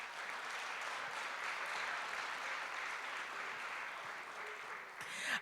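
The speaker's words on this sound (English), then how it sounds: "Tonight, yes, you can clap." Soft, distant applause from an audience at an evening awards celebration, a steady wash of clapping with no talk over it.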